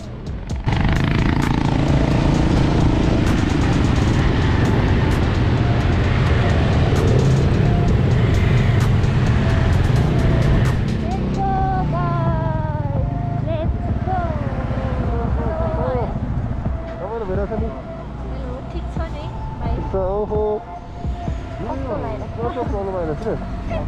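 Dirt bikes ridden off-road on a trail to Barpak in Gorkha, Nepal, engines revving loudly and continuously close by, then easing back as riders talk and shout over the idling motors.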